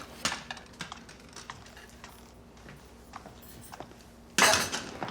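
Dishes being washed at home after dinner: scattered light clinks and clatter of cutlery and plates, close and intermittent, ending in a louder rattling burst.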